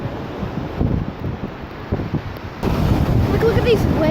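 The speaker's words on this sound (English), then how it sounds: "Look at these waves." Ocean waves wash onto the shore under gusting wind buffeting the microphone, loud and close, with the surf growing rougher partway through.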